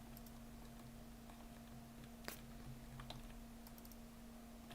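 Quiet computer keyboard typing with scattered key clicks, steady and close, one sharper click standing out, no talking.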